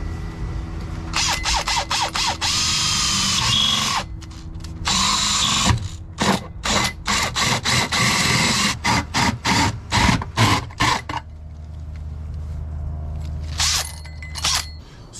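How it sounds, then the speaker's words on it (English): Power drill boring through car body sheet metal in a freshly painted engine bay, a loud continuous whine that breaks into a run of short stop-start bursts, then a low steady hum near the end. "So I'm going to drill through slightly, check inside the car."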